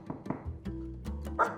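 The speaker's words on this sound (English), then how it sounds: "every time she's barking a little more intently, a little louder each time" A dog barks on command in answer to knocks on a door during training, giving several sharp, loud barks in a row with a low thud between them, each bark a little more urgent.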